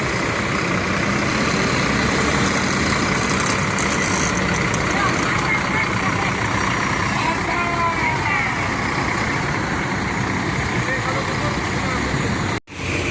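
A Mercedes-Benz 1626 bus idles nearby with a steady, low, rumbling engine drone, with voices murmuring over it before a brief cut near the end.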